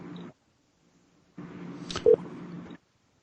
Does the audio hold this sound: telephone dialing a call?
yes